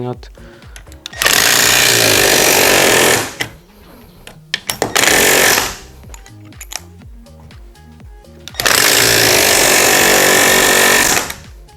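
Milwaukee C12 PN-0 cordless hammer driving nails in three loud bursts of rapid hammering, each lasting one to three seconds, separated by short pauses with handling noise, up close.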